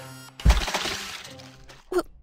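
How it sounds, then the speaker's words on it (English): A watermelon is smashed in a single sharp, loud crunching burst followed by a brief wet spattering tail, then a second shorter thud a moment later, with no talking. "Something like smashing a watermelon?"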